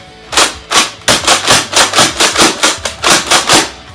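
A Nerf Mega Roto Fury blaster slam fires foam darts in a rapid, even volley of about a dozen loud, sharp mechanical thwacks, with no talking.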